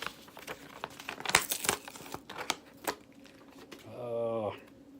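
Sticky tape peeling off a plastic card saver holding a 1971 Topps baseball card gives close, crinkly crackling bursts, followed by a short voiced sound near the end.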